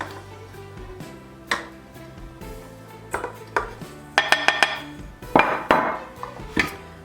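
Sugar pours and clatters into creamed butter in a mixing bowl for a cranberry orange cream cheese bundt cake, with a scattered series of close clinks and scrapes against the bowl over a low background hum.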